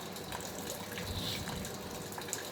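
A waterfall in rainy season with high water roars steadily and broadly, a constant powerful gush with no voices over it.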